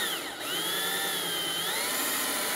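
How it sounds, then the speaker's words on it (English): A power drill whines continuously at high speed, its pitch dipping briefly and then holding steady, loud and close. "Go slow, let the drill do the work."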